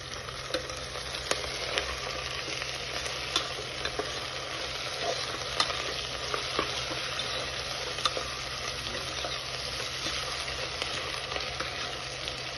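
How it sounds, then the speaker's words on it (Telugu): Raw prawns and tomato masala frying in a pan, a steady close sizzle with crackles and occasional pops running evenly throughout, no voices. "బాగా ఫ్రై చేయాలి."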